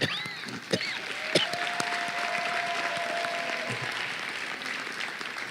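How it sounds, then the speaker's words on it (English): Medical graduates at a Howard University College of Medicine commencement clap in a round of applause, moderately loud and steady, with a few sharper claps near the start and a faint tone running beneath. "give yourself a big round of applause"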